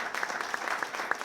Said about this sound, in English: Give yourselves an applaud.